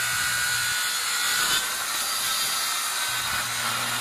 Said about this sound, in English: Cutting the legs for 26 inches high.